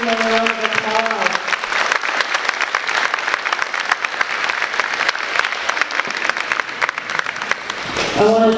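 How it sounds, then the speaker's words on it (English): Board meeting audience gives a round of applause for student art participants, dense crowd clapping filling the room for several seconds, with a voice briefly heard at the start and again at the close. "Let's give them a round of applause."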